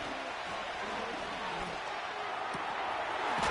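A football stadium crowd roars as a steady, broad wall of noise during a third-down play, swelling slightly toward the end, with faint thuds and distant voices mixed in.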